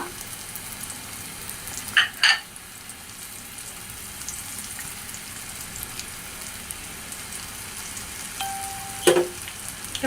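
Onion paste frying in pure mustard oil with chopped garlic and a little cumin for beef korma, a continuous crackling sizzle with a few louder spatters and clinks of stirring.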